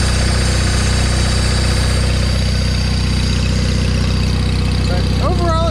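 A John Deere 318 lawn tractor engine runs loud and steady at a low idle, with a rough mechanical clatter from a clutch needing adjustment, close up and constant throughout.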